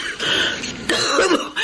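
An older woman's worsening cough in a radio drama, a short run of rough throat-clearing hacks, close and clear with no talk over it.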